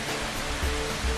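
Water tumbling over rock in a small cascade, a steady broadband rush with low gurgling surges, continuous and fairly close throughout.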